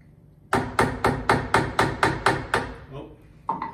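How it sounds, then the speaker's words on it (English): Rawhide face of a copper mallet tapping the spindle of a Haas VF3 machining center, nine loud, evenly spaced close thuds in a steady rhythm, then a pause and one more blow. "I'm just using the rawhide side of copper mallet"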